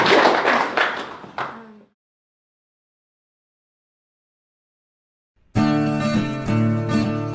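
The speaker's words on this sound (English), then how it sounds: "applause." A panel-discussion audience in Merbein gives a short burst of close, crisp clapping that fades out within two seconds. Silence follows, then tonal music begins.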